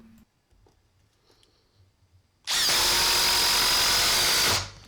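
A Ridgid Gen5x cordless impact driver drives a screw on its third speed setting, after a few faint handling taps, giving one loud, close, continuous whirring burst that lasts about two seconds and then winds down.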